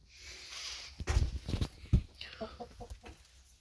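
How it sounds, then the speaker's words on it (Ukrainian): Soft clucking from several hens settling into their coop for the night, scattered murmurs and short calls with a few rustling, scuffing sounds, no talking. "Ось, ідіть уже лягайте спати,"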